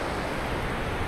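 Broad, steady roar of rushing water at the Deil's Cauldron waterfall in Glen Lednock near Comrie, running heavy after rain; a continuous full-band wash with no break or voices over its brief length.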